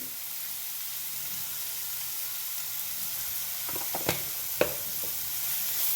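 Spicy egg fried rice sizzles steadily in a hot pan, a soft continuous frying hiss broken near the end by a few sharp scraping clicks as the rice is stirred and mixed.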